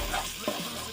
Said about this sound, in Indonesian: Setelah halus, kita tumis semua bumbu.